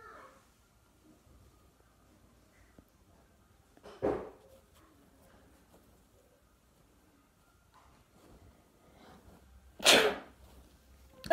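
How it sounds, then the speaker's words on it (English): Two sharp sneezes from a person doing a sneezing challenge, one near the middle and a louder one toward the end, separated by quiet room tone. "I'm sneezing a little bit more better than last time."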